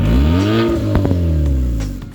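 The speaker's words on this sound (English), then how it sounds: "giving this GT Elantra a powerful roar." A Hyundai Elantra GT with its muffler and exhaust disconnected roars loudly and close by, its engine revving up and then settling while the note rises and falls over a couple of seconds.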